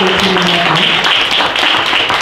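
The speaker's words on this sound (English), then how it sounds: "Let's give a round of applause for that, right?" An audience at a university faculty studio event gives a steady round of applause to welcome a new NJCU member, with dense continuous clapping and little talk.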